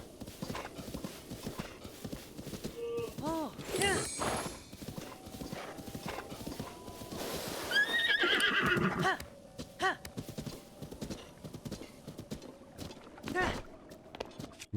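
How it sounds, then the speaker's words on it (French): A horse in the video game Zelda: Breath of the Wild trots with rhythmic clip-clop hooves and gives loud whinnies, while someone talks over the game audio. "Ah, un cheval, j'ai envie de choper un cheval là."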